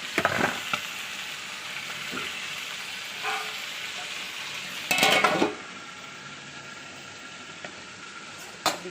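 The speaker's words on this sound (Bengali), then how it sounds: "আলু দিয়ে মাংস এটাকে তরকারি করছি" Meat and potato curry cooks in a pot with a steady frying sizzle, a few soft stirring and utensil clinks, and a louder burst of sizzle midway.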